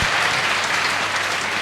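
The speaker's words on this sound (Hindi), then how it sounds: "तालियां तो आज नहीं रुकनी चाहिए।" A brief burst of steady, full applause from a seated crowd at a felicitation ceremony, with close, dense clapping at an even volume and no voices.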